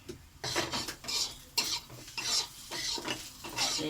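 Rice fries in a pan with turmeric and salt while a metal spatula stirs it in repeated rhythmic scraping strokes over a soft sizzle, fairly close and moderately quiet.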